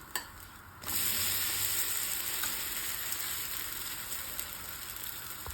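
A mushroom dosa sizzles on a hot pan, a steady close frying hiss that swells after a brief quieter moment and then holds evenly.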